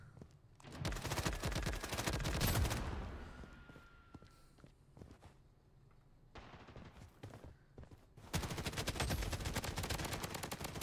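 Rapid hip-fire bursts from a gun in the shooter game Blood Strike, dense automatic shots in two loud stretches with a quieter gap of scattered shots and footsteps between.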